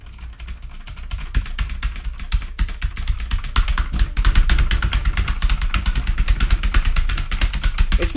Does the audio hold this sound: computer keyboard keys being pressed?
yes